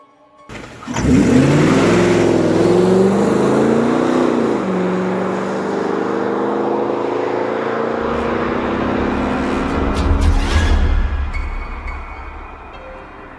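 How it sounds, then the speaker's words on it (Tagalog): A car starts up and pulls away, its engine revving hard and then settling into a sustained mid-pitched drone as it drives on, loud and close, with a brief low rumble surge near the end. "Sakay ng kotse ni Doña Victoria, siya mismo ang nagmaneho"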